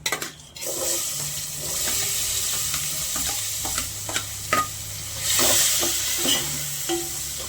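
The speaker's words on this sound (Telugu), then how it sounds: "ఉల్లిగడ్డ మగ్గడానికి రెండు నిమిషాలు పడుతుందండి" Onions sautéing in a pan for a flat bean curry make a close, steady sizzle with occasional scraping stirs and clinks, swelling louder toward the end, with no one speaking.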